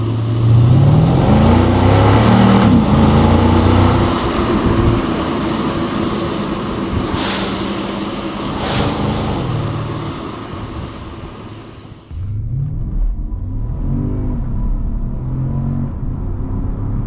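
A 2011 Porsche Panamera S accelerates hard through its 7-speed PDK gearbox, the engine note climbing loudly and steadily before dropping abruptly at a quick gear change, then climbing again.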